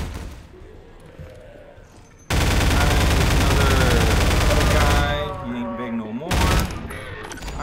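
Rapid automatic gunfire in Half-Life 2: Episode Two erupts in a loud, sustained burst of several seconds, then falls back to quieter in-game sounds with a short final flurry.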